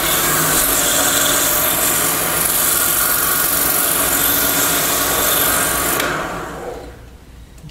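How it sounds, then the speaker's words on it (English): A bocote wood pendant is sanded while spinning on a lathe, a loud continuous motor whir and abrasive hiss that holds steady, then drops away sharply as the lathe winds down near the end. "when we're sanding, we don't want to touch this outside edge here because that's already been finished and polished."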